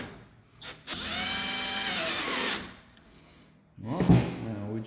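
A power drill drives stainless steel screws into a cover plate during hospital electrical fit-off work, with one long whining burst of under two seconds, a short bump before it and a brief buzz later.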